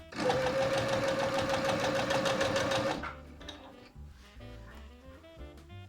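A sewing machine stitching bias binding onto an apron runs fast and loud for three seconds, then stops, leaving quieter handling sounds and faint slow clicks.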